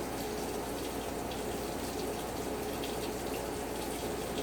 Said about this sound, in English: put it under the hot water